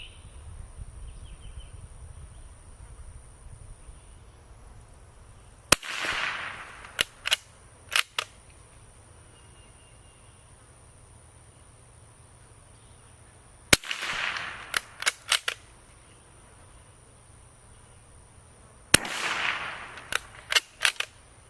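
Three short bursts of sharp, fairly quiet cracks from an 84-year-old Remington 341 .22LR rifle, each a quick cluster of several reports separated by long pauses, with low background hum between.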